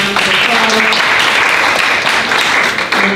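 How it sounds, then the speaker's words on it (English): A round of applause from a studio audience, thick and continuous clapping with some voices mixed in, dipping briefly just before the end. "Let's give him a round of applause."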